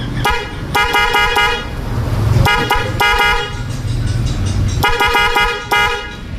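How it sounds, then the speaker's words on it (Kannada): Repeated honks from a newly fitted horn on a Hero Passion Pro motorcycle, loud and close, in several short bursts and clusters of toots across the clip with a steady low background hum. "ಹಾರನ್ ಸೌಂಡ್ ಕೇಳಿಸ್ತಾ ಇದ್ದೀನಿ"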